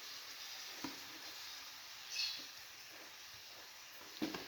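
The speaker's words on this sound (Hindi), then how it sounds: "ये देखिए, ये फ़िश वाले मिसाले में है ना, हम आलू फ्राई कर रहे हैं।" Potatoes fry in a green fish masala, giving a faint, steady sizzling hiss with a few soft clicks and stirring taps, quiet and continuous with no talking.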